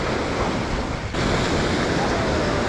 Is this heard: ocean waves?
yes